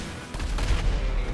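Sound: RPG rocket shots in GTA V video game

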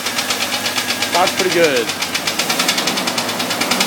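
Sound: Jeep Cherokee 4.0L engine knocking, broken piston skirt

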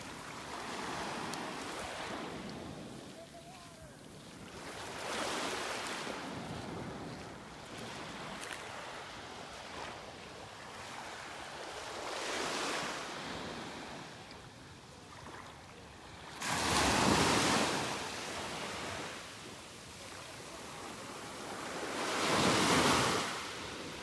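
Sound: ocean waves on a beach in North Naples, Florida

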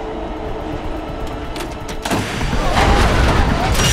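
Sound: subway train in a tunnel

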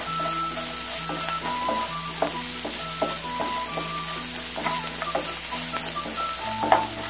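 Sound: sautéing in a pan with salt, prawn theeyal base

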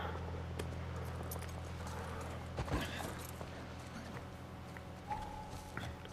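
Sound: horse hooves clip-clopping, from a video game

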